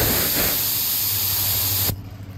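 Compressed air blows in a loud, steady hiss at close range for about two seconds, then cuts off abruptly and leaves quiet background noise.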